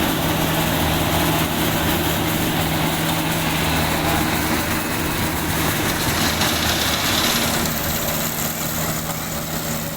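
A combine harvester engine running steadily in a rice field, a continuous loud mechanical drone with a constant hum and no pauses, no voices heard.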